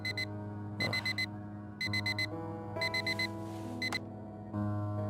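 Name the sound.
alarm clock ringing in video game Fragments of Him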